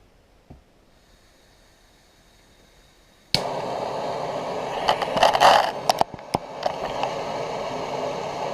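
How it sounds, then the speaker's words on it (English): Gas torch lit to warm a Remington 870 shotgun part, a sudden steady hissing roar that starts partway through and holds, with a few clicks and knocks around it, close and fairly loud. "We got our gas here, so let's turn the gas on."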